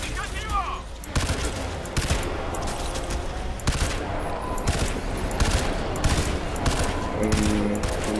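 Gunfire in the video game Crysis 2 rattles in dense, rapid bursts that run nearly without pause, with a voice talking at times over the shooting.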